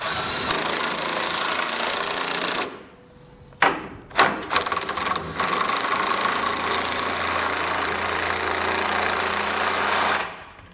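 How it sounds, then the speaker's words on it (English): A 15/16 socket wrench snugging down bolts on fifth-wheel above-bed base rails in a truck bed, heard as loud, continuous mechanical whirring with brief pauses and clicks, steady and close. "Now we come back with a 15/16 socket and snug everything down."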